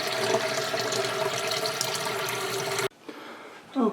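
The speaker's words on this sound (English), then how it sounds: "water is just now going into the pre-filter compartment" Water pours into the pre-filter compartment of an aquarium filter during installation, a loud steady rushing fill that cuts off suddenly and leaves quieter room sound.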